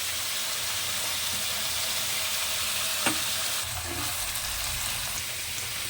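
Pointed gourd pieces frying in a pan for a jackfruit curry, a loud continuous sizzle close by with a brief scrape of stirring partway through.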